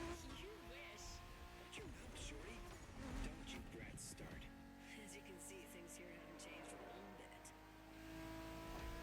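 A stock Mazda Miata racing in The Crew Motorfest, the engine droning and shifting pitch as it revs and accelerates, with faint tire squeal, while someone talks over it throughout.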